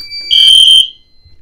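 A fire alarm panel sounds a loud, piercing electronic tone for about half a second after a two-wire smoke detector is activated, then cuts off into near silence.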